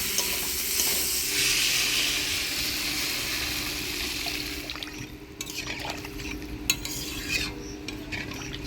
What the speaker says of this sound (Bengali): মশলার সাথে আলুটা ভালো করে কষাই নিলাম এবার জল দিলাম